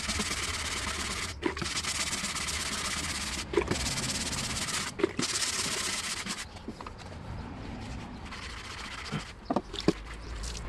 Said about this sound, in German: jetzt verwenden wir noch so Bürstle